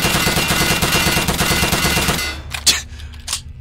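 Video game machine-gun fire rattles in a loud, rapid continuous burst for a little over two seconds, then cuts off, leaving a couple of brief, sharp follow-up sounds.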